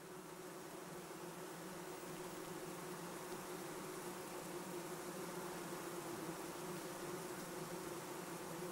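Honeybees in a hive hum in a dense, constant buzz, loud and close, with no pauses or voices.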